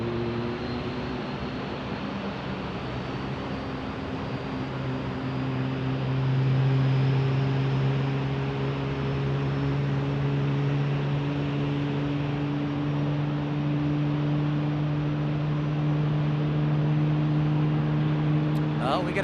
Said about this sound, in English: we got a spool up of another United Max